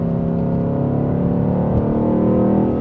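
A 2025 Ford Mustang Dark Horse engine drones steadily at high revs while the car drives, a continuous loud, close cabin roar with no talk over it.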